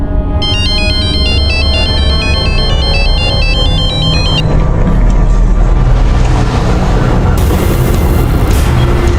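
A phone ringtone plays a repeating electronic melody for about four seconds, loud over a busy background of engine-like rumble and noise from a Hindi crime drama scene.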